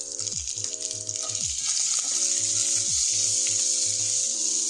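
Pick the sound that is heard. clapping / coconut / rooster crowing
coconut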